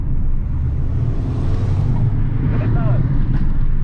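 A new car's engine drones steadily from inside the cabin while driving, a loud, continuous low rumble with road noise, and a voice speaks over it.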